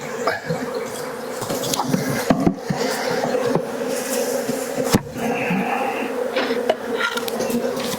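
Honeybees swarm around a horizontal beehive damaged by hive beetles on a homestead, making a steady, close droning buzz broken by occasional knocks and thuds.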